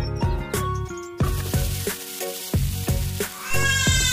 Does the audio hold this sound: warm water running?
no